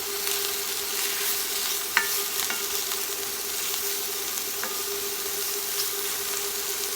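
Pork stir fry with mushrooms sizzles steadily in a hot pan as it is stirred, a constant close hiss broken by a few faint scrapes and clicks of the utensil, with no voices.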